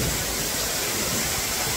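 Can-Umantad Falls in Candijay, Bohol, roars as a steady, broadband rush of falling water, close and continuous without pause.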